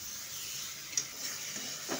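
Chopped tomatoes frying in a pan give a quiet, steady sizzle, broken by a few faint stirring scrapes and one small sharp tick.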